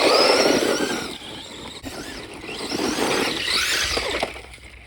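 A Traxxas Mini Maxx RC monster truck tearing across dirt, its electric motor whining high and surging as it accelerates, fading briefly and then climbing again, close and loud with no voices.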